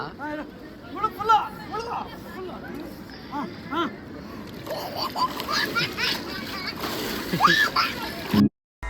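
People splash and dive into clean river water at a crowded temple bathing spot, with bursts of splashing and sloshing under a steady hubbub of voices and children calling out, ending abruptly.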